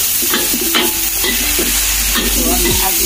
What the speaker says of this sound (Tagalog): ilagay na natin ang ating bihon at sigita na rin natin